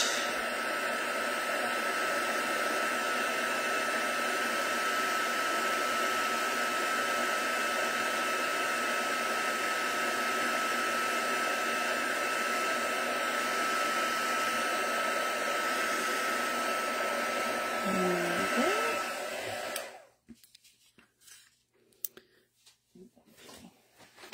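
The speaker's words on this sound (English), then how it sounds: "Then I can pop my heat tool to one side." A heat tool blows steadily to melt embossing powder on a stamped card, a loud continuous whooshing roar with no talk that cuts off abruptly about four-fifths of the way through, leaving near silence.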